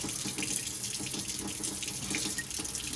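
Hot water runs steadily from a tap during a golf grip installation, a continuous close splashing rush with no talking.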